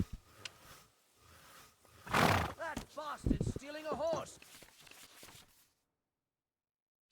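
A horse neighs in the medieval video game Kingdom Come: Deliverance II, giving a loud, wavering whinny in the middle of the clip. Game sounds and muffled footsteps surround it before everything falls silent.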